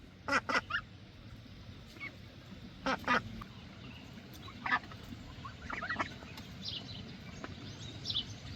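Several ducks quack in short bursts near a barn pen, a few doubled calls spaced out over quiet background rustle, fairly close and moderately loud.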